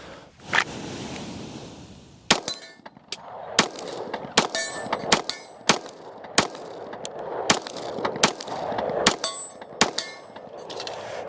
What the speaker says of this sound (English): God, love shooting this gun.